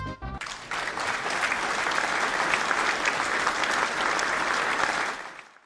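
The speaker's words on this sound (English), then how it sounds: "Welcome him with applause." A crowd applauding loudly and steadily for several seconds, dense clapping that fades out at the end.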